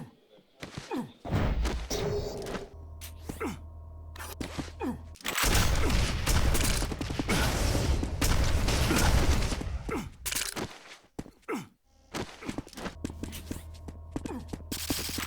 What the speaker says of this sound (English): Finishes Cypher off with those rockets